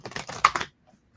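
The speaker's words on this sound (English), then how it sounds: "let me give it one more shuffle." A deck of cards is shuffled in a short, close riffle. The rapid fluttering clicks last under a second and then stop.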